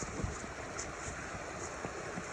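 High creek water at an Alaska gold mining site in fall, a steady broad rushing flow with wind buffeting the microphone, fairly faint and continuous with no talk.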